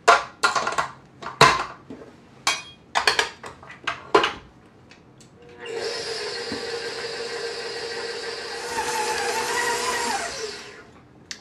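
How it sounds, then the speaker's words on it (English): Cracked eggs in a separate dish are beaten quickly, first with several sharp clinks and taps of the utensil against the dish, then with a steady, continuous whirring mix lasting about five seconds. "I'm going to crack them in a separate dish just to make sure I don't get any shell in there."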